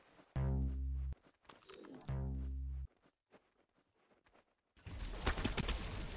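Pulse laser gunfire in Roblox Arsenal, two loud sustained buzzing bursts each lasting under a second, followed later by a rougher noisy stretch of game sound.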